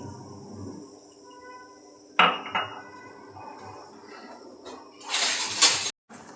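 Cauliflower pieces being mixed with lemon juice in a bowl, with clattering utensil knocks and scraping against the dish, a sharp clack partway through and a louder rattling burst near the end, heard alone at close range.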